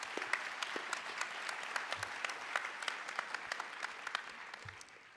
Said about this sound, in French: Merci, on peut les applaudir.